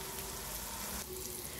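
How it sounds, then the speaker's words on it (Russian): Chicken fries in oil with a soft, steady sizzling hiss that crackles on without a break, quiet and close. "Теперь обжарим нашу курочку на масле. Жарим курицу 10-12 минут."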